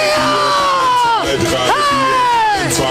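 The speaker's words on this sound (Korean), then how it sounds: "다시 한번 함성" Protesters at a Korean street rally roar a loud group cheer, layered over a voice through a loudspeaker with sliding, wavering pitch, the crowd noise close and continuous from start to finish.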